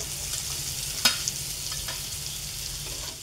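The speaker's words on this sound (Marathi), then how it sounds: "कढीपत्ता टाकून घ्यायचा यामध्ये, परतून घ्यायचा यामध्ये." Curry leaves frying in oil in a pan give a steady hiss and sizzle with a brief sharp crackle, no voices over it.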